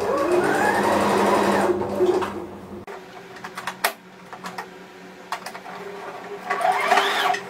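A sewing machine stitches the side of a plush fox toy in a fast, steady whirr at first, then falls to scattered clicks and handling sounds before a short final run of stitching.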